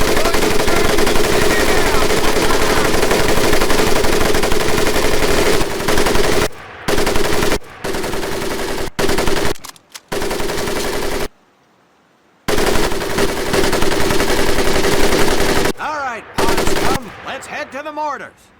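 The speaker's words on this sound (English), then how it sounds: "M1919A4 30 caliber machine gun." An M1919A4 .30 caliber machine gun fires in the World War II video game Medal of Honor: Pacific Assault, loud sustained bursts of rapid gunfire broken by brief pauses, with voices faintly audible.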